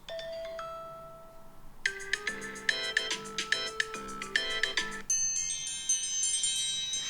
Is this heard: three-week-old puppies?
no